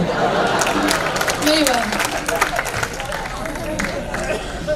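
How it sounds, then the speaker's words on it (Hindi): An audience at a Hindi poetry gathering (kavi sammelan) claps in a burst of scattered hand claps, heard under a voice speaking over the applause. "सब लोग तालियां वालियां बजाते रहे और खुशबू आप ही ताली बजाओ"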